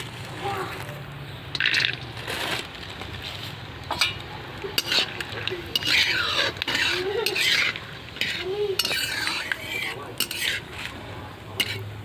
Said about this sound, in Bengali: তেল গরম হয়ে গেছে বন্ধুরা, বাদামগুলো দিয়ে দিচ্ছি।